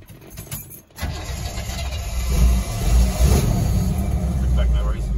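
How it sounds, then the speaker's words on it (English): Carbureted small-block V8 in a K5 Blazer, set up as a mobile welding rig, rumbles and revs up loudly and steadily after a brief pause, with people talking over it inside the cab. "Carbureted small block."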